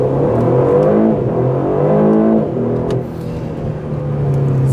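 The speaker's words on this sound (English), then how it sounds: "let's see how this thing accelerates" A 2024 Aston Martin DB12 engine revs hard in Sport Plus mode and climbs in pitch, with loud rising harmonics, a brief drop as it shifts, then pulls again, close and powerful.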